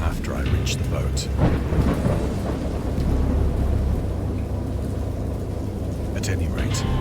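Thunderstorm with rain in a Lovecraftian horror interactive novel, a continuous wash of heavy rain with deep rolling thunder rumbles, loud and close, while someone talks over it.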